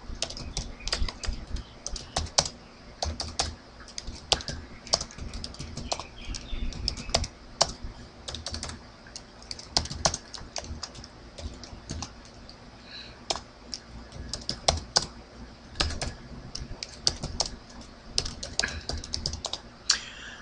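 Steady typing on a computer keyboard while configuring VLANs on a Cisco switch, close and clear key clicks in uneven bursts with brief pauses, no talking.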